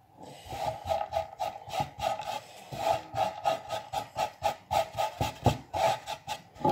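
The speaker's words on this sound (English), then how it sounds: "this part here is the black that I'm going to scrape into the bowl" A blade scrapes the black outer layer off a chaga mushroom into a bowl in steady, rhythmic rasping strokes, close and fairly quiet, with no talk.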